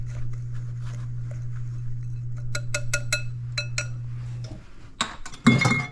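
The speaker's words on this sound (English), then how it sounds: "We just have to whisk it and break it up until it gets to a nice crumbly consistency." A whisk breaking up crumbly banana nut muffin topping in a bowl gives bursts of light, quick clinks and taps, close up over a steady low hum, with a louder clatter at the end.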